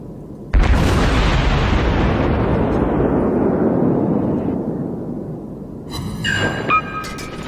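Naval cruiser guns of a St. Louis class ship firing in World of Warships, a sudden heavy boom that rolls out into a long rumbling decay, followed by a few fainter pops and metallic game tones.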